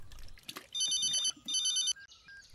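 Telephone ringing in two loud, trilling electronic bursts separated by a brief gap, close and clear against a quiet background.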